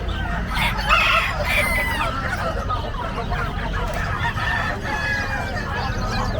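Gamecocks crow repeatedly at a fighting-cock market in Bocaue, Philippines, over a dense, noisy crowd of clucking fowl, with harsh calls rising above a constant background din.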